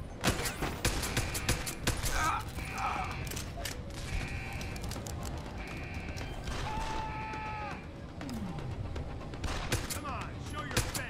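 Rapid bursts of video game gunfire from Deus Ex: Human Revolution crackle throughout, spaced with short sharp shots over an ambient background, and characters talk in between.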